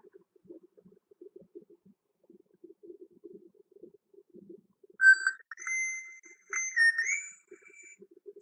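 Proto Man's whistled melody from Mega Man 10 on PC, a clear rising and falling tune that enters halfway through after quiet, low game ambience and continues in several bright, sustained phrases.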